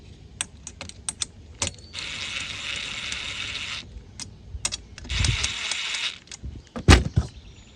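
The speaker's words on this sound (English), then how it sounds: "Got the impact on the lower setting, so we're not gonna tighten them up" A cordless impact wrench on a low setting snugs roof rack bolts on a Volkswagen ID4 during a KINGGERI rack installation, firing two sustained buzzing bursts of about two and one seconds, surrounded by close clicks, taps and ratcheting handling noises, with no talking.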